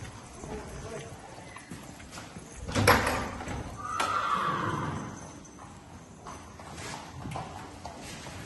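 Older grey racehorse walking with soft clip-clopping hooves and a brief whinny, heard amid background stable noise and voices talking.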